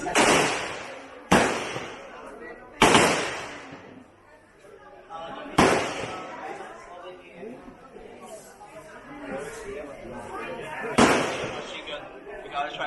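Sharp gunshots from firearms at the Cu Chi Tunnels shooting range in Vietnam, five loud, widely spaced reports with lingering reverberation and faint crowd chatter between them.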